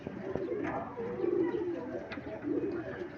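Racing pigeons coo at a loft during a summer race in Talavera, Nueva Ecija, a steady low cooing chorus with a few sharper wing or perch sounds throughout.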